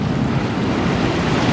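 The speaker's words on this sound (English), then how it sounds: "this is the beach" Ocean waves washing onto a beach, a loud continuous roar of surf mixed with wind buffeting the microphone, close and steady with no talk.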